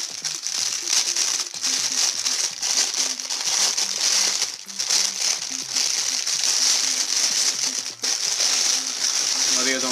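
A sealed plastic parcel bag is crinkled and handled close up, a continuous dense rustling and crackling that runs throughout, with a voice speaking at moments beneath it.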